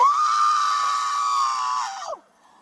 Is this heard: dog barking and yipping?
no